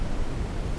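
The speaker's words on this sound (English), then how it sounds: "dark noise" Dark noise plays as a macOS Ventura background sound, a constant, deep, rushing hiss weighted toward the low end, steady and unbroken.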